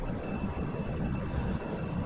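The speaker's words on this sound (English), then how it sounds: "Now punching the engines to the max." Roaring spacecraft jet engines at full thrust in Kerbal Space Program, a steady, loud, dense rumble that holds constant throughout with no talking.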